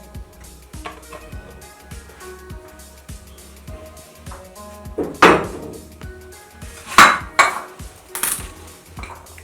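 A white onion is chopped with a knife on a cutting board in a home kitchen, a series of close, sharp taps with a few louder knocks and clatters, no talking.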